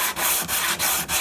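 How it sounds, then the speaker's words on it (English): A sanding block rubs back and forth along a freshly glued wooden guitar fretboard, a continuous close abrasive rasp with four brief pauses at each stroke reversal. "I'm now going to go to the sanding block and see if we can get a finished"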